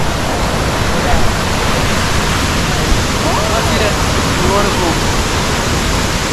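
Aling Aling waterfall in Ubud, Bali roars as a steady, dense rush of falling water, loud and close, with no break in the sound for the whole stretch.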